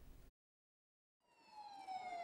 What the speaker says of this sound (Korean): 기후변화 위기를 알리는 사이렌이 울리자 사람들이 길바닥에 들어눕습니다.